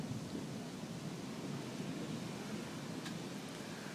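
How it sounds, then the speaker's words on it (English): Thunder from a lightning storm over a mountain and a city downtown: a steady, low rolling rumble fills the whole stretch, with one brief sharp crack near the end and no one talking. "There's a lot of lightning behind me on the mountain, but I can't see it as well as I can see it over the city downtown."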